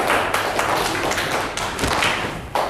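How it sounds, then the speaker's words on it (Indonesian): A classroom audience applauds the final student group, a dense, steady patter of many hands clapping close by for the whole stretch with no voices over it. "Oke, tepuk tangan untuk kelompok yang terakhir."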